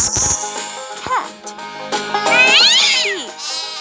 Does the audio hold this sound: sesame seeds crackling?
no